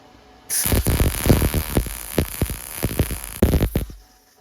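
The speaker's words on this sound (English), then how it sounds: "Tube steel, baby. Let's weld it up." Tube steel being welded, a crackling, buzzing arc that starts abruptly, sputters with irregular pops and bursts for about three seconds, then cuts off, close and fairly loud.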